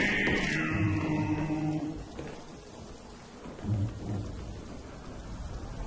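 Rain pours steadily through a thunderstorm in the video game Call of the Dead, opening with a loud rolling thunder rumble that fades into dense rainfall, with a second low rumble later.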